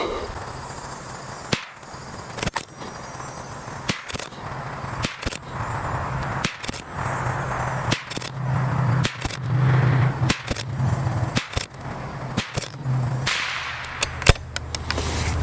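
A .22LR precision rifle firing CCI Mini Mag ammunition at a range, about a dozen sharp, loud cracks spaced one to two seconds apart over a steady outdoor background.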